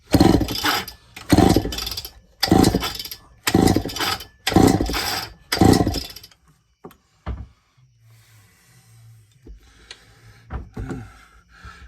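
A Homelite 925 chainsaw is pulled over repeatedly for a compression test, six loud rhythmic bursts of the cranking engine with short gaps between, then quieter scattered clicks and handling noises.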